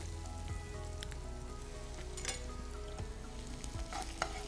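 Onions fry with ginger garlic paste in a pan, giving a steady, moderate sizzle with occasional crackles and light spatula scrapes, with no talking.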